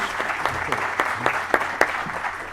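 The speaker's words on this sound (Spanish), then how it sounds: "damos un gran aplauso" Applause from a seismology seminar audience in Chile, steady clapping with a few sharper claps standing out, fairly close and continuous throughout.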